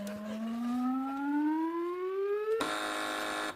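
A panel quiz show contestant buzzer sounds: a tone sweeps upward like a siren for a couple of seconds, then jumps to a flat, harsh buzz that holds briefly before cutting off, with no talking.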